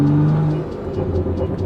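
Modified BMW F30 335i with a turbocharged engine and methanol injection, revving loud and close in a short burst with a rising, whirring growl.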